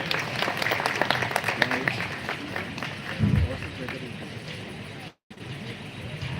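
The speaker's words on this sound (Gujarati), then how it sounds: "તાળીઓના ગણગાટથી અમને વધાવી લઈએ" A hall audience claps to welcome a legislator at a state educational and administrative conference for school principals in Gujarat, producing a dense, sustained patter of many hands that continues steadily under the room's ambience.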